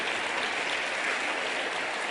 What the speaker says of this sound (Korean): 여러분들은 박수를 치지만